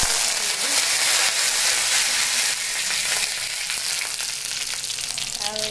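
Curry leaves and green chillies dropped into hot oil in a pan, giving a loud, continuous crackling sizzle that slowly eases, with light stirring and a brief voice near the end.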